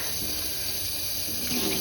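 A kitchen tap runs steadily over freshly dyed cotton yarn as the excess dye rinses out, a close, even hiss of flowing water with no voices.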